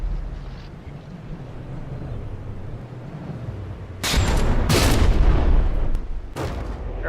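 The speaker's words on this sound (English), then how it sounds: "Fire those weapons like mad, Reiter." Frigate weapons fire in the naval combat game From The Depths, a steady rumbling battle bed that erupts into loud, dense booms and blasts midway, heavy and sustained with no voices.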